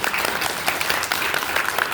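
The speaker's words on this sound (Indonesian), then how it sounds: "Tepuk tangan buat Tuhan." A congregation at a Sunday church service applauds continuously, a thick wash of many hands clapping at once, steady and fairly loud with no break.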